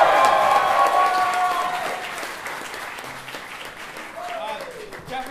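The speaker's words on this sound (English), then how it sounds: "can we just give Dustin a round of applause" Audience applause at an acoustic concert in San Francisco, loud at first and gradually fading, with a voice speaking briefly over the dwindling clapping near the end.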